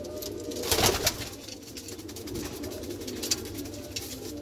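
Caged pigeons, black Madrasi birds, coo softly in low repeated calls, with a brief flutter or rustle early on, at moderate distance and without talk.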